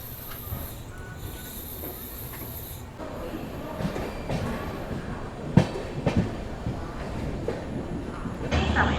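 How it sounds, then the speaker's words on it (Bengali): Passenger train leaving NJP station on a long run toward Guwahati, rumbling steadily on the rails with clicking wheel noise and brief metallic squeals, loud and continuous throughout. "আমার ট্রেন ছেড়ে দিল NJP থেকে।"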